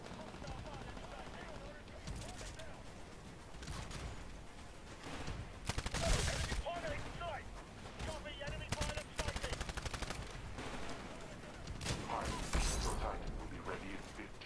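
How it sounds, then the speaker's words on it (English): Gunfire in the Titanfall video game comes as faint, rapid bursts of automatic shots, quiet and somewhat distant, spread across a busy game soundscape. "I actually shot someone"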